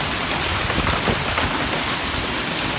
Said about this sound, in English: It's still raining golf balls.